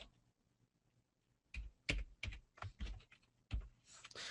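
Quiet bursts of keystrokes on a computer keyboard break out after a near-silent start, in irregular rapid clusters of clicks, with no talking.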